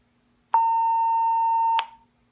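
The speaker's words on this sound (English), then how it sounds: "When you hear that beep, your radio has been reset" A two-way radio gives a single steady electronic beep, just over a second long, after its emergency mode is cleared; clean and close with silence before and after.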